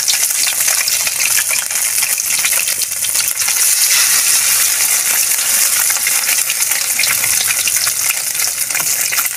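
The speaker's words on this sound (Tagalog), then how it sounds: "Yung magpiprito na ng ating torta." Egg omelette (torta) frying in a pan, a loud, steady close sizzle with crackling oil and spatters throughout, with no voices.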